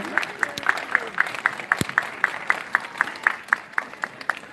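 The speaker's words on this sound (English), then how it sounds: "Clap for yourself." At a Santa story time, hands clap in a steady, even rhythm, roughly four crisp claps per second, fairly close and moderate in volume over a soft room murmur.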